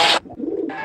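A Rajshahi giribaj pigeon gives one short, soft coo, set between brief bursts of hissing noise.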